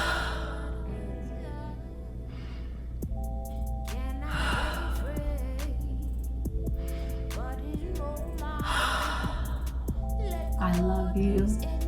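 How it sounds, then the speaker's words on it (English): A group takes slow, deep breaths together at the end of a session, with soft airy inhales and sighing exhales over gentle, sustained background music. "together we're just gonna take 3 deep breaths"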